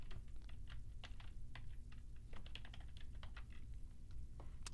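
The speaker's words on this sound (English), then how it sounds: "I'm going to type in schizophrenia." Computer keyboard typing a search term into an academic database search page, a quick irregular run of soft, close key clicks over a low steady room hum, no talking.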